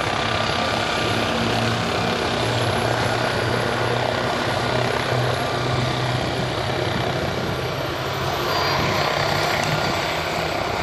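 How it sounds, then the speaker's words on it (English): Steady, loud drone of a Lancaster bomber's propeller engines at an airshow, running continuously with a low throbbing hum and broadband roar throughout, no voices. "You've probably heard the engines going to fine pitch."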